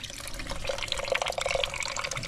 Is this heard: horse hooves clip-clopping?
no